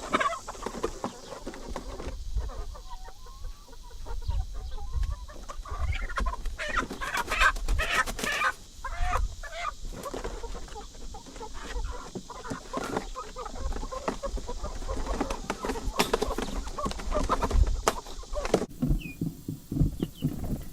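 Chickens cluck and chatter continuously at close range in a chicken house, with rustling and scratching throughout and a few louder bursts.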